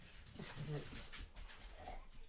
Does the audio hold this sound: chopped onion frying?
no